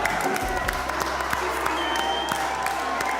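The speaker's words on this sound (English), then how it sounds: "Give yourselves a big clap." An audience at the close of a live variety show with battle bots and magic applauds steadily, a dense wash of clapping with scattered cheers, fairly close and even throughout.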